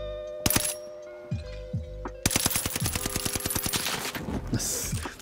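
Machine gun fire in the Call of Duty Warzone video game, first a few short bursts and then a long rapid rattling volley of shots, loud and close.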